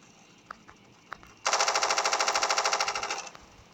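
Rapid automatic gunfire from a video game rings out in a loud, sustained burst of evenly spaced shots lasting about two seconds, after a couple of faint clicks.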